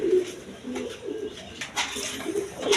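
A pair of high-flying Giribaz pigeons coo in soft, repeated low calls close by, steady and unhurried over a quiet background.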